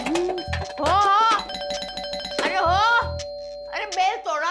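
A doorbell rings repeatedly in a home, a series of insistent melodic chimes pressed one after another, close and loud over background music, with someone speaking between rings.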